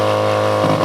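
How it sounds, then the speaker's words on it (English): A 2022 Porsche Cayman GT4 RS engine holds a steady, loud, buzzing high idle on launch control, held evenly for under a second. "Let's take a listen to launch control."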